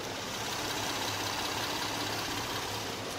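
A Hyundai Aslan's 3.0 gasoline engine idles steadily up close with the hood open, a smooth low hum with a faint even ticking, no voices present.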